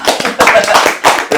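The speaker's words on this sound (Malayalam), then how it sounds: "എല്ലാരും കയ്യടിയാ." A group of people clap together in quick bursts, loud and close, with several separate rounds of hand claps and some talk mixed in.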